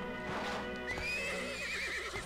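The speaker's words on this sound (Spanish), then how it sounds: "Es un caballo negro." A black horse in Disney Infinity 3.0 whinnies loudly, a long wavering neigh rising and falling over a low rumbling background, with faint hoof clops.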